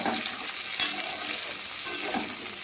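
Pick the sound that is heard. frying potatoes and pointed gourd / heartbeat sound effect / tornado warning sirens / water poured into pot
frying potatoes and pointed gourd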